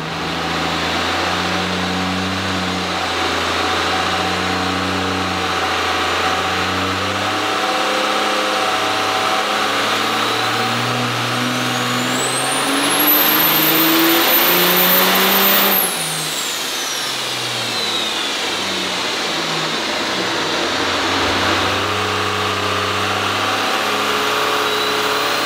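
A second-generation diesel truck engine swapped to a P-pump revs hard on a dyno, climbing through rising harmonics to a sustained high-rpm peak with turbo whine before dropping back to a steady loud drone.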